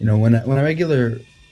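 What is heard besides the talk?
No everyday noise stands out behind the speech.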